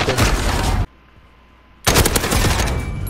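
AK-47 automatic fire in a video game, two loud, close bursts of rapid shots split by a second of near silence.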